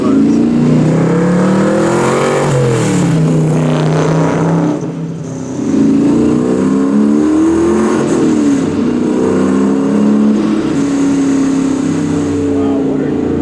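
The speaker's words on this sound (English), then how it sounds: "Wow, what a great sounding car." A 700 hp AMC/Hurst SC Rambler Scrambler accelerating hard, its engine note rising and falling through several revving pulls with a short lift near the middle, loud and close, with people talking faintly over it.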